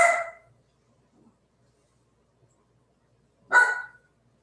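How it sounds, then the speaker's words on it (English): Two short dog barks, one at the start and another a few seconds later, separated by near silence. "if you can remain focused and fully present through my dog's barking"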